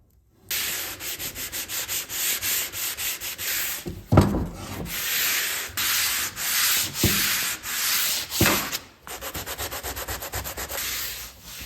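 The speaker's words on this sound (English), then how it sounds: "take some 150 grit sandpaper and just give it a little rough up. Try and get some of that lacquer off." Old lacquer on the handle of a vintage double bit axe being hand sanded with 150 grit sandpaper, rhythmic close rubbing strokes in quick repeated bursts with brief pauses.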